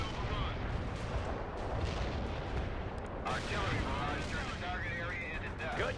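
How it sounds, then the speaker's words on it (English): A heavy artillery barrage in the video game World in Conflict. Continuous rumbling booms and crackling impacts fill the background at moderate distance, with voices talking over the bombardment. "Heavy artillery barrage here."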